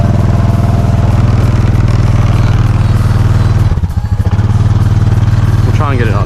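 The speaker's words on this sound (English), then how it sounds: "As far as I can tell right now, both tires are spinning." A Honda Foreman ATV engine drones loudly and continuously as its tires spin in mud, with a brief dip in the middle, and a voice briefly audible near the end.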